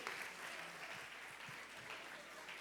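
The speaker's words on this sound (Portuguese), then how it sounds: "Queria que a igreja aplaudisse o Senhor bem forte por essas vidas" A church congregation claps firmly in praise of the Lord, a faint, distant, steady patter of many hands filling the space with no voices standing out.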